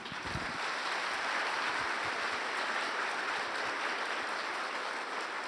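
A church congregation applauds during a sermon, dense steady clapping that fills the room throughout, loud and continuous with no voices over it.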